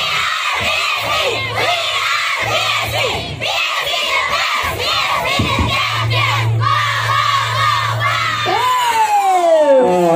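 A crowd of schoolchildren from an elementary marching band shouts and cheers loudly together at a music event, a sustained roar of young voices with whoops rising over a low held drone.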